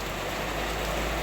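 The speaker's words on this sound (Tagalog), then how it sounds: "Bumabagyo, umuulan." Heavy storm rain pours steadily outdoors as a dense, unbroken wash of noise with no voices.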